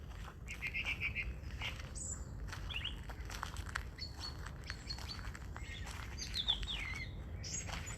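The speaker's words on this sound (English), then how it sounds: "You can hear, as I say, the best soundtrack is actually the bird song." Birds singing in a rose garden in the morning, several bright chirps and short warbling phrases scattered over the moments against a soft outdoor background, no one talking.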